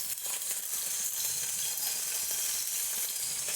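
Wet prawns dropped into hot coconut oil send up a loud, dense, continuous sizzle with crackling spatters, close and steady throughout, with no talk.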